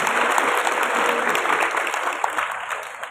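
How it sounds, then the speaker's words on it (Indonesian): Steady applause from an audience at the opening ceremony of a vocational-school student competition held at a university in Semarang, dense and sustained throughout with no voices above it. "Tepuk tangan untuk kita semuanya."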